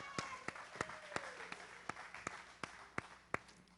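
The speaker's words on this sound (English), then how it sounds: "Give her a round of applause." An audience at a magic show claps for a volunteer called up onto the stage: sparse, evenly spaced claps that stay fairly faint.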